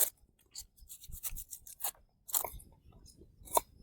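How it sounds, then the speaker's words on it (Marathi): A knife chops an onion outdoors in a village farm setting, giving irregular close crunchy cuts and short bursts of slicing with pauses. "कांदा कापून घेतो"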